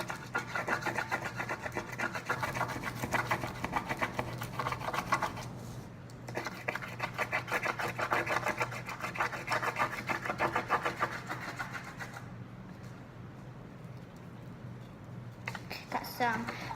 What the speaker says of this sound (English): So we take the crayon that you can choose whatever color and we color over it.